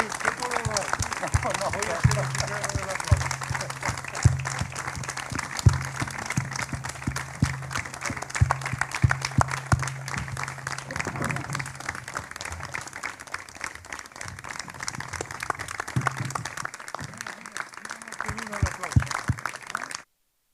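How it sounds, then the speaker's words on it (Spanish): An audience at a cultural talk event applauds two guests with long, crackling rounds of clapping that rise and fall in intensity, with voices occasionally heard beneath the applause. "Un aplauso, por favor, para estas dos maravillosas personas."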